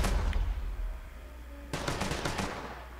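Gunfire in the Mafia 3 video game: after a low rumbling stretch, a sudden burst of rapid automatic shots rattles out loudly, then trails off into the background.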